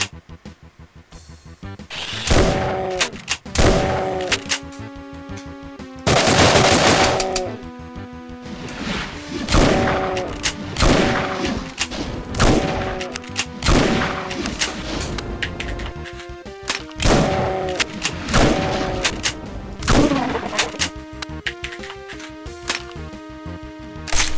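Repeated shotgun blasts and crashing impacts from the video game Doom, loud and punchy over game music and effects, firing in steady bursts.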